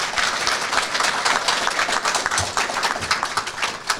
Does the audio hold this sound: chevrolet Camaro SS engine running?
no